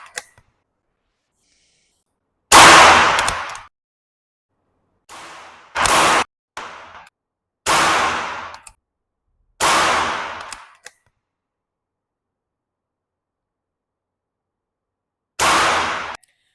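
Diana Stormrider Gen 3 .177 caliber PCP air rifle firing, heard as loud, sharp cracks spaced a second or more apart with silent gaps between them; only about six or seven shots are audible, not twelve in rapid succession.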